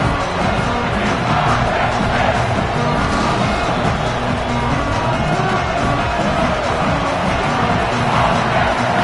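A home crowd fills a college football stadium before kickoff, a steady, dense roar of cheering and voices spread evenly and loudly throughout, with no clear single speaker standing out.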